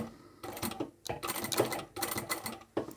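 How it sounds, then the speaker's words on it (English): A sewing machine stitches a wallet at its fold in short, close bursts of rapid mechanical chatter, stopping and starting several times. "I'm going to start sewing at the fold here."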